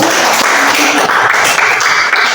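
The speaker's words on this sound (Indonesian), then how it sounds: "Oke, semua tepuk tangan dulu." A group, likely a class, claps hands together in a loud, fairly even burst of applause that continues throughout without pause.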